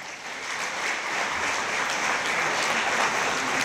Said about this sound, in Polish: Wielkie brawa dla Maćka.